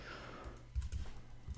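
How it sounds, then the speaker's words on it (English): A ping command is typed on a computer keyboard, a quick run of soft, close key taps in an irregular rhythm over a faint room hum. "you can actually also just test it by typing in ping"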